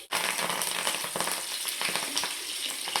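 Curry leaves hiss and crackle in hot oil for an egg and green chilli chutney: a dense, steady sizzle up close with scattered small pops and no voices.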